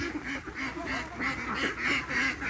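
Ducklings quack and peep repeatedly in quick, close succession, a steady stream of small, bright calls over a low background.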